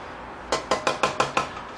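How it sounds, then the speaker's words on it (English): Homemade mustard mixture stirred in a bowl, a utensil knocking the side in six quick, evenly spaced clinks over about a second, close and fairly crisp, with no talking. "So I'm just stirring it up"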